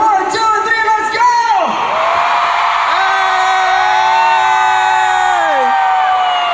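A concert crowd at an anniversary show screams, whoops and cheers loudly. The sustained, massed voices rise and fall, with high shrieks and shouted calls layered over the din.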